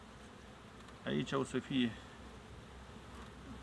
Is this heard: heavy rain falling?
no